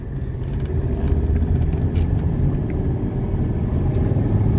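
A 1985 Mercedes 300TD wagon drives along, heard from inside as a steady low diesel rumble and road noise, loud and continuous throughout.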